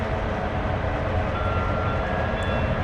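A train passes near a hiking trail with a loud, steady rumble and roar of rolling wagons that fills the whole stretch without letting up.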